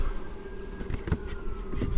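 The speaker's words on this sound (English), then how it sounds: "Can you see that bee sat there" Bees buzz around a beehive entrance as workers bring in pollen, a faint steady drone with a few louder passes, heard outdoors without talk.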